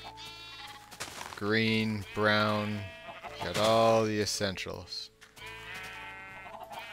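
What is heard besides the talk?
sheep bleating in Minecraft video game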